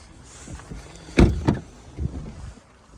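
Electric motor of the panoramic roof on a 2018 Volvo XC40 AWD 2.0 diesel automatic, heard as a quiet whirring with a couple of sharp mechanical clunks near the middle inside the car's cabin.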